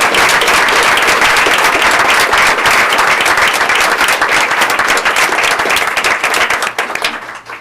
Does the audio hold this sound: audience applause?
yes